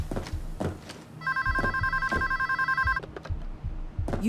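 A telephone rings with a bright, repeating electronic trill inside the video game Payday 2 during a stealth bank heist, with soft thumping game sounds before and after the ring.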